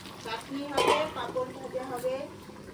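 Chicken being kosha stir-fried with ripe green chillies, a soft sizzle and scraping stir under ongoing conversation, with a brief louder clatter of utensil against pan.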